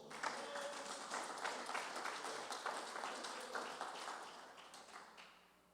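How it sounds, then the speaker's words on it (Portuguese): A church congregation applauds during a sermon, a faint, steady patter of many hands clapping together that fades out at the end. "Você pode aplaudir o Senhor?"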